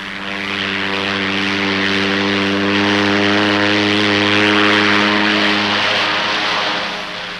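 Propeller charter plane in Laos droning steadily and loud, a close continuous engine hum that swells slightly and then eases off, with no voices.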